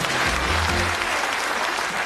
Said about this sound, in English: Give them an encouraging round of applause